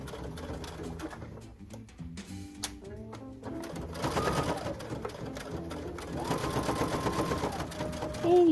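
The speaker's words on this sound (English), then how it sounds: "So if you're machine sewing, definitely go slow over that area" Sewing machine top-stitching a fabric face mask, running in steady whirring bursts close by with brief pauses between runs.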